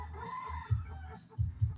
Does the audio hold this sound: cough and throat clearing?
no